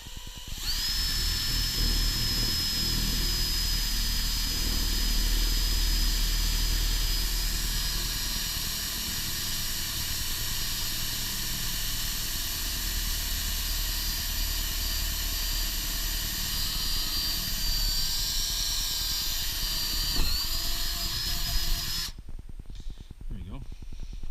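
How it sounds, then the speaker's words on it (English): A high-pitched power drill whines continuously for about twenty seconds while drilling into the frame of a heat pump roof, loud and close, then cuts off abruptly. "We'll drill this out."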